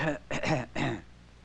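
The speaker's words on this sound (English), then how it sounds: "Even a light cough or clearing of the throat" A person clears their throat in several short, rough bursts, close and distinct, followed by quiet, from an old 16mm film soundtrack.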